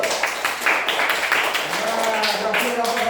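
A small group of children in a coding class claps after a robot task succeeds, irregular close hand claps overlapping with chatter and a voice talking alongside.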